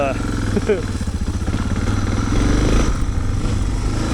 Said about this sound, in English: I'm going to do this same section on the mighty DR